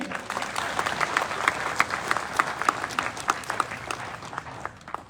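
An audience at a police conference applauds, with dense, steady clapping from a crowd that carries on evenly for several seconds before thinning slightly at the end.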